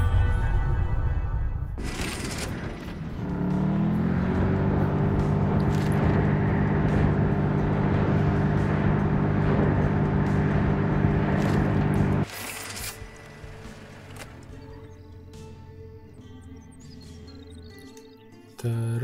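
A muscle car in the video game Heading Out drives along, its engine holding a steady harmonic drone loud in the foreground, cutting out partway before a quieter stretch of ambient sound.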